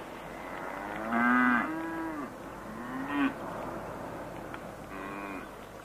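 A cow moos a few times at moderate distance, with long drawn-out lowing calls separated by quiet gaps and a faint rumble underneath.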